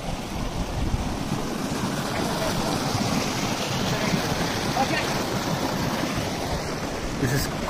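Fast-flowing stream water near Devkund waterfall in Maharashtra, a continuous broadband rush close by, steady and fairly loud with some wind buffeting the microphone.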